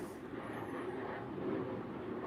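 A standard propeller airplane passing overhead, a steady, continuous low engine drone that holds at moderate distance for the whole stretch with no talk over it.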